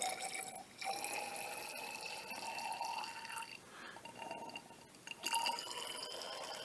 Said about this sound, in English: I want you to squirt that about half full of water.